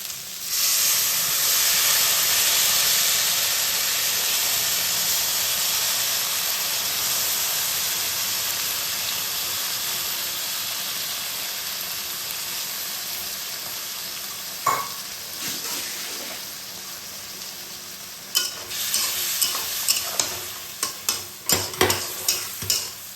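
Water poured into a pan of frying bitter gourd with mustard paste makes a loud hissing sizzle that gradually settles, followed by scattered stirring clinks and scrapes near the end.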